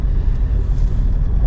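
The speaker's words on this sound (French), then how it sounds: "voir s'il y a un peu moins de vent" Strong wind buffets a parked vehicle, a loud, continuous low rumble and roar with no talking.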